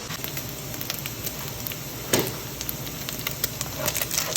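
Onions fry in a pan on a home stove with a constant close sizzle, speckled with crackles and a brief louder hiss midway.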